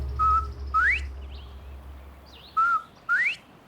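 Bobwhite quail calling in mating season in Texas, two clear rising whistled calls, each a short flat note followed by a sharp upward-sweeping whistle, heard close against a quiet low background hum.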